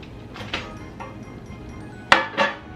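Low-carb pumpkin bread flipped out of a baking pan: a few soft knocks, then a sharp metallic clank and a second bump as the pan lands, close by with no talk.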